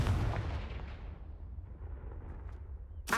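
A Confringo spell cast in the Hogwarts Legacy video game: a loud, booming blast that rolls into a long fading rumble, with a second sharp burst at the very end.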